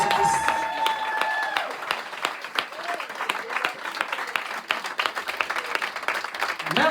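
A church congregation at a French-language worship service claps and cheers for Jesus Christ, dense sustained applause with scattered shouts, loud and continuous throughout.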